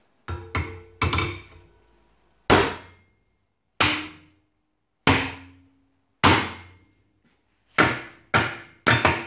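Hammer blows ring out on normalized steel clamped in a vise, about ten sharp metallic strikes in uneven groups with ringing decays between them, close and loud, with no voices.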